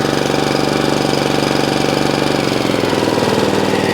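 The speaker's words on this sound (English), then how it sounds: "So that's the engine running." A Hyundai HYYW70 petrol power weeder engine runs steadily close by with a rapid, even knocking putter, its tone dropping slightly toward the end.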